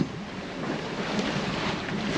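Sailboat under engine at sea in a sloppy, confused swell, a low steady engine rumble blended with heavy wind buffeting and wash of water, continuous with no talking.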